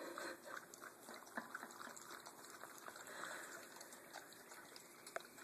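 A puppy splashes and sloshes about in its water bowl, giving close, steady small water trickles and splashes with a few sharper drips.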